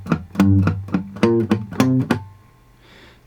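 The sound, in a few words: acoustic guitar tune with dead notes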